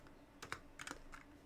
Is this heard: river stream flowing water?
no